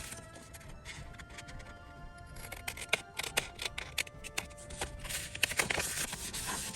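Scissors cutting a faux leather wallet template, a series of crisp close snips of uneven rhythm, quiet and alone.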